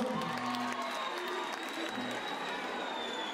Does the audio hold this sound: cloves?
no